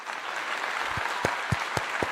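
Applause over a steady background hiss, followed by a few loud distinct claps spaced at a slow, regular rhythm.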